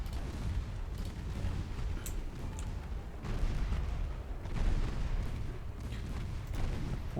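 Cannon fire in a naval battle video game, a steady low rumble of repeated booming shots with a few louder swells, continuous and fairly distant throughout.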